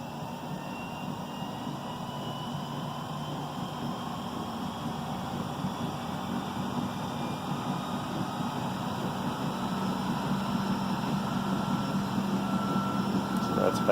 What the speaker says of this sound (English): It's going to be a little noisy because you have a motor running a belt.